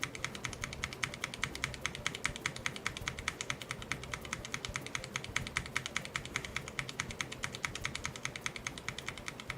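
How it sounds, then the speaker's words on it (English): Rapid, steady clatter of keys on a computer keyboard, close and fairly quiet, with dense continuous taps and no talking. "Do you like my keyboard?"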